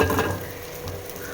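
Three eggs frying together in hot oil in a pan, a steady close sizzle with faint crackle throughout, no voices.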